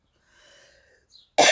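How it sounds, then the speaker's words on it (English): A single sharp, loud cough bursts out at the end, after quiet murmuring from a person applying makeup. "Still with this here cough."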